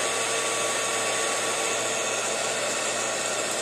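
A heat tool blows a steady, loud broadband roar while heat-setting embossing powder on a die-cut shape, continuous and unbroken with no talk.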